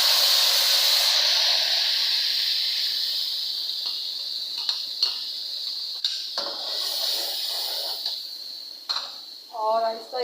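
Tomato paste hitting hot oil with golden-brown fried onions for mash daal tadka, a loud steady hiss that fades gradually, with a few utensil clinks and a brief voice near the end.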